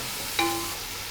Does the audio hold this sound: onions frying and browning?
yes